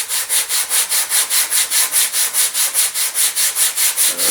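Sandpaper rubs quickly back and forth over a Freedom Flight Models elastic-launched glider as its rear section is thinned, a steady run of about twenty close, even strokes with no talking.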